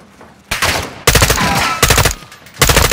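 Gunfire from the video game Call of Duty Modern Warfare 2, with loud overlapping bursts of automatic shots after a short quiet start, then several sustained volleys with brief gaps between them.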